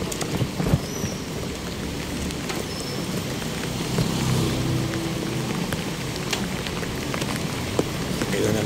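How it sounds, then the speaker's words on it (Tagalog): Rain falling steadily on a street in Manila, a dense continuous patter with scattered sharper drops, close and fairly loud, with faint background noise mixed in. "Ayan naman yung ulan."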